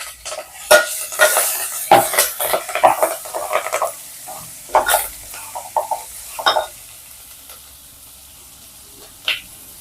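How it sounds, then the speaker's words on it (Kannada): Ginger, garlic and chopped onion frying in a pan, with a utensil scraping and clattering in irregular bursts over a soft sizzle, busy for several seconds, then quieter with one late clink. "ಶುಂಠಿ ಬೆಳ್ಳುಳ್ಳಿ ನಾವು ಹೆಚ್ಚಿರುವಂತ ಈರುಳ್ಳಿ ಎಲ್ಲ ಹಾಕಿ ಚೆನ್ನಾಗಿ ಫ್ರೈ ಮಾಡ್ಕೊಳ್ಳೋಣ"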